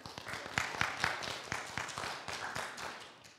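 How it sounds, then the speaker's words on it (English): A church congregation claps during a Sunday service, a fairly even run of distinct hand claps that fades slightly toward the end. "Clapping's allowed in church."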